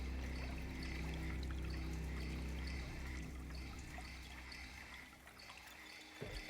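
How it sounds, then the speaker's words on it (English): Water being poured out on the ground in the video game Caves of Qud, a steady liquid pouring and trickling sound running continuously over a low background hum, fading slightly toward the end. "This water, I guess. We're just going to pour it nearby."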